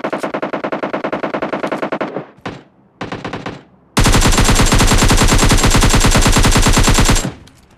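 AKM rifle fire in a video game: rapid loud automatic bursts, a sustained stream, then short broken volleys and a long continuous burst that stops abruptly.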